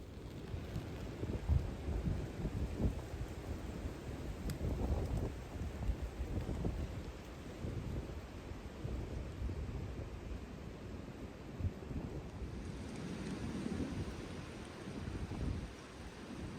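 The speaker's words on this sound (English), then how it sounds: "It's really freaking windy." Steady wind roars and gusts against the microphone, a dense low rumble with buffeting throughout, no voices.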